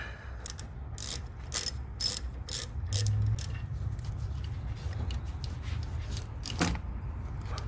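A ratchet wrench with a 9/32 socket loosens an intake clamp on a SAAB turbo, making repeated quick clicking bursts close up, with metallic jangling between strokes.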